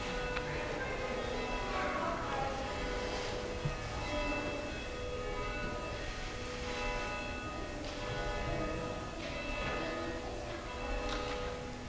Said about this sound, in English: as we listen to those bells